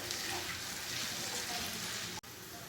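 Chopped garlic and ginger fry in a pan toward a reddish color, giving a faint, even hiss that holds steady with a brief dropout near the end.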